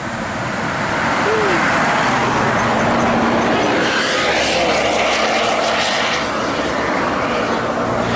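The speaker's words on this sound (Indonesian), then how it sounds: "Satu unit Transport Express Jaya sedang pulang rantau." A Transport Express Jaya bus heading home passes along a road cut through a hill, its engine building to a loud, broad rumble at close range that holds and then slowly eases off.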